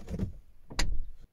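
A car door is rattled to check that it is shut: two quick bursts of metallic clunking and rattling, close by and brief, with no talk.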